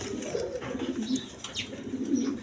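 Two male pigeons coo in low, rolling phrases, repeated several times close by and steady, with faint higher chirps from other birds behind them.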